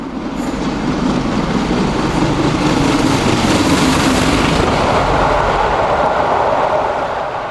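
LMS steam locomotive Scots Guardsman hauling the Cumbrian Mountain Express at Kirkby Thor, a loud steady roar of train and wagons rolling close by, sustained throughout.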